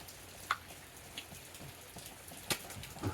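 Rain from a rainstorm falls as a soft, steady hiss, with a few scattered louder drops landing close by.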